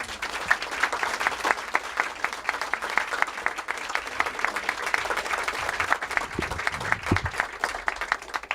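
An audience applauds to welcome speaker Colman McCarthy at a talk on teaching peace, a dense, sustained round of clapping from a crowd throughout, with no talking.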